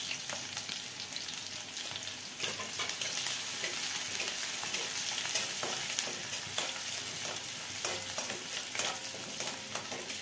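Sliced green chillies and peeled garlic fry in a pan with a continuous crackling sizzle, overlaid by frequent scraping strokes of a spatula stirring them throughout.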